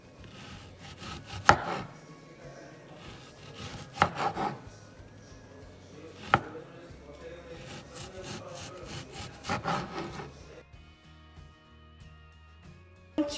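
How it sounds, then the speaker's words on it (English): Knife cutting onion into very thin slices on a board for Sonoran-style chilaquiles rojos, repeated soft sawing strokes punctuated by a few sharp taps, close and fairly quiet with no talking. "you have to cut the onion in very thin pieces"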